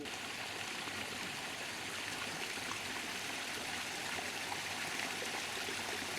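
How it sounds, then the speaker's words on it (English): Water flowing steadily through the water gardens at the entrance of a temple and three-pagoda complex, a continuous close rushing and trickling murmur with no breaks. "At the entrance there are beautiful water gardens with reflections of the pagodas."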